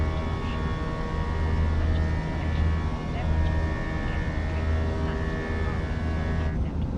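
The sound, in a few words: Airbus A319 engine sound in a flight simulator game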